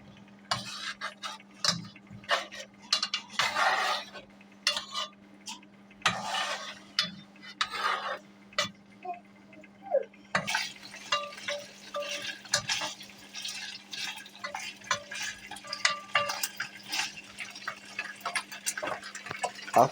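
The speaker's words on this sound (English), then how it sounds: "And then we'll mix the sausage." Utensil scraping and stirring sausages in a pot, with intermittent clatter, sizzling and a steady low hum underneath.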